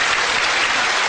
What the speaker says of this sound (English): he's getting a big round of applause, Mark Jarvis is,